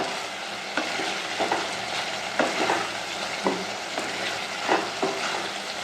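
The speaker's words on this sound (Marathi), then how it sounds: "हे बघा, परत एकदा हे सर्व मिक्स करून घ्यायचं।" Saoji dal kanda (lentils and onion) with chopped coriander stirred in a sizzling pan, a steady fry hiss with a spoon scraping in repeated strokes about once a second, close and fairly loud, no voices.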